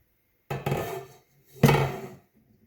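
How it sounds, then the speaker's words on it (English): A large pan is set down on a stovetop with two distinct metallic clunks about a second apart, close and fairly loud, each ringing briefly before fading into quiet. "I'm going to use my large pan and put it on top of the stove"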